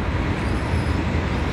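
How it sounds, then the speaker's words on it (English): A train passes near an outdoor RC car track, producing a steady, broadband rumble that fills the short stretch without any clear breaks. "Sorry about the train."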